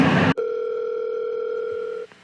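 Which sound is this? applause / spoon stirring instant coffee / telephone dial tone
telephone dial tone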